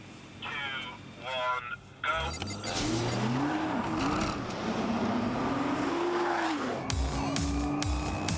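A race car is driven hard on a slippery track, its engine revving and dropping in pitch as it brakes, with tyres squealing, while an announcer talks continuously over it.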